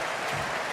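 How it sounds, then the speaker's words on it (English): Roaring crowd at a Big Bash cricket match between Brisbane Heat and Sydney Sixers, a dense, continuous wash of cheering and applause filling the whole short moment with no break. "Listen to the crowd."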